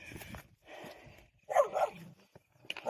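A small dog barks in repeated short, sharp bursts, close and fairly loud, outdoors near a gate and tower, with brief pauses between volleys.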